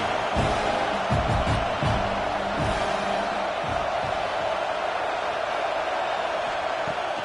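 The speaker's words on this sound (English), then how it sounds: "Decibels rising as the crowd gets behind this defense on 3rd down." A college football stadium crowd at a Grambling Tigers game roars loudly on third down, a dense sustained wall of cheering with whoops and shouts poking through, loudest early and staying intense throughout.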